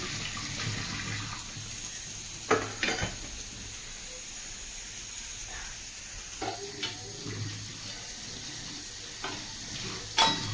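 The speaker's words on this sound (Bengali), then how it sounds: "তো এখন বাসন মাজা হয়ে গেছে, এবার ধুয়ে নিচ্ছি" Dishes being rinsed under running water after scrubbing in a home kitchen, a faint steady water flow with occasional sharp clinks of utensils and plates knocking together.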